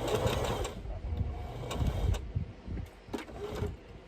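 A sewing machine stitches a fabric face mask with elastic, running in a steady mechanical whir with short bursts and pauses as the stitching starts and stops. It is fairly close and heard alone, with no talking.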